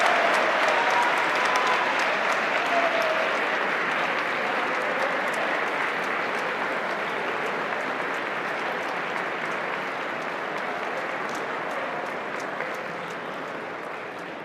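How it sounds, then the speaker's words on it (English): Sustained applause from an audience at a Spirit Award presentation honouring students, a dense wash of clapping that runs steadily throughout and slowly fades toward the end. "Let's do one more round of applause for all of our Spirit Award recipients."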